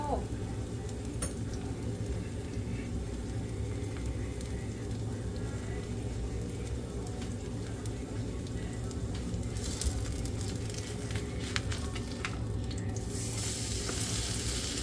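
A Korean kimchi pancake (buchimgae) fries in a pan with a steady, dense sizzle and crackle running the whole time, louder toward the end, while people talk quietly over it.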